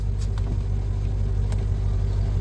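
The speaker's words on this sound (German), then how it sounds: "Auto läuft super. Mehmet fährt jetzt." A Mercedes W220 500 drives along, its engine a steady low rumble that holds at constant volume for the whole stretch, with a few faint clicks above it and no voices.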